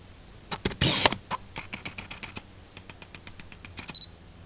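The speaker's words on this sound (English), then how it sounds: "The noise that this lens makes when it's focusing is quite loud." Canon 50mm f/1.8 lens autofocus motor whirring and buzzing in a run of short, close, fairly loud bursts with brief gaps between them, heard alone without talking.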